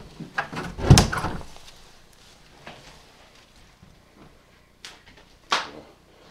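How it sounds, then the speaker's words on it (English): An old door in a haunted house swings shut with one loud thud near the start, then a few fainter knocks and bumps follow, with two sharp clacks near the end. "I'm going to shut this door."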